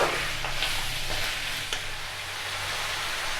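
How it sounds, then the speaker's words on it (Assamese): Meat and onions fry in a pan with a soft, steady sizzle, broken by a few light scrapes from stirring, all quiet and close. "এয়া এতিয়া এইখিনি মই ভালকৈ অলপ ভাজি ল'ম"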